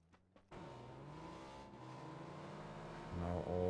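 Several cars in the PUBG video game drive across a bridge, a steady engine drone that swells into louder revving near the end, with no talk.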